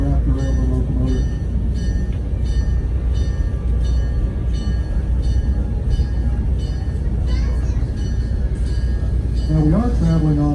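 A heritage passenger train on an 1859 East Tennessee and Georgia Railway line in Chattanooga rolls steadily, with continuous low rumble and wheel noise throughout, brief horn-like tones near the start and end.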